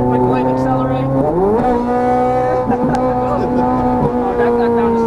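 A Ferrari 430 Scuderia on a race track, its engine a loud, close, harmonic howl that dips as it downshifts, then climbs again under acceleration, with another quick shift blip partway through.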